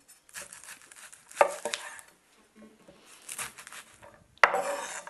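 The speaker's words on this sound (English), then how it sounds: "We are going to start by dicing one onion" A knife dices an onion on a cutting board, making a few scattered chops and scraping strokes with quiet gaps between them and one sharper knock near the end.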